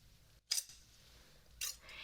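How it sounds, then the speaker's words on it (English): A pair of dagger-like scissors is handled in two distinct moments, each a sharp, close metallic snip or clink with bright ringing edges, separated by a quiet second of near-silence. "They asked if I could find them a pair of scissors that at first glance looks like a dagger."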